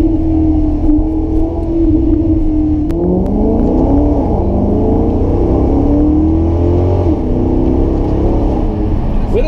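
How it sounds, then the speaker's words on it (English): Maserati GranCabrio MC Stradale engine revving loudly, a sustained high-pitched howl that climbs, dips and rises again through several throttle sweeps, close and continuous. "you just want to keep revving up the engine all the time and hear this music."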